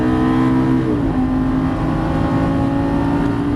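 Lamborghini Gallardo Superleggera LP 570-4 engine pulling hard on a track, a loud steady drone heard from inside with its pitch dropping at an upshift about a second in, then holding a constant roar.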